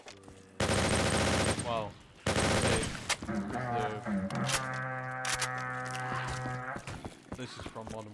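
Modern Warfare 3 weapons fire in Black Ops 3 custom zombies: two very loud, dense automatic bursts, then a jumble of tonal game effects and music. Someone speaks briefly near the end.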